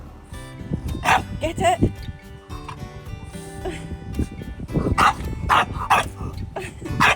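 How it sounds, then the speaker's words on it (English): Outdoors at a rock-breaking and ditch-digging job, a dog barks and yips repeatedly in short bursts while someone talks over it. "Daft dog."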